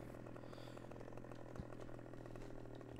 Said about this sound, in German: Man kann den hochnehmen und ich säge dann so weit ab